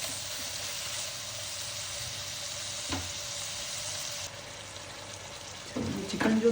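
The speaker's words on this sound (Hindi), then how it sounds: "मिक्स करेंगे इसको हम तकरीबन 10 से 12 मिनट के लिए पकाएंगे" Chicken pasta sizzles steadily in a pan, a constant frying hiss close by, with stirring and clattering picking up toward the end.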